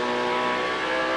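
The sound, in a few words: 1991 ATCC race car engine shifting gears at Symmons Plains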